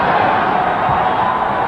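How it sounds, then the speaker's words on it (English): Steady, dense roar from a basketball arena crowd at a 1996 Lakers home game against the Blazers, filling the space loudly and evenly without any distinct voices standing out. "Crowd now making their first arrival of the night in terms of noise."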